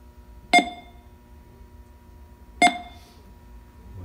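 Two short electronic beeps from a phasing meter about two seconds apart, clear and fairly close, over a quiet low hum with no one talking.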